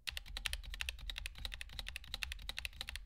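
Fast, even typing on a SteelSeries Apex Pro Mini gaming keyboard, with dense crisp key clacks heard close up and alone, without any voices.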